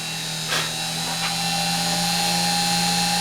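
A crowning tool cuts a bevel into the muzzle of an airgun barrel, giving a steady whining, grinding drone with two brief louder scrapes early on, close and continuous with no talking.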